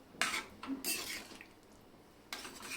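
Vegetable kurma is stirred in a pot with a spoon, giving a few quick scraping, clinking passes close by with a quiet pause between them.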